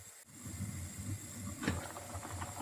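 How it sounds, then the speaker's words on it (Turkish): A covered pot of celery and quince cooked in olive oil comes to a boil on the stove, giving a steady soft hiss with faint bubbling and light rattling, alone and quiet. "Kaynamaya başladı."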